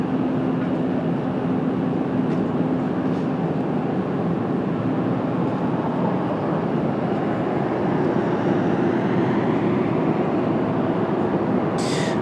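A heavy airliner in from Munich lands on runway 19 left at Washington Dulles, a steady, loud roar of engines and rushing air that holds throughout with a slight swell toward the end.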